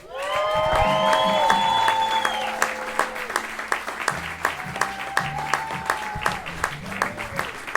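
A comedy club audience bursts into loud applause and cheers as a comedian is introduced, with whoops and shouts on top before the clapping thins into scattered claps.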